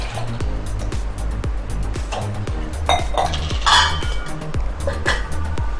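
A metal pot lid clinks and clatters onto a pot of boiling moong dal and water, with several sharp metallic knocks and rings close by.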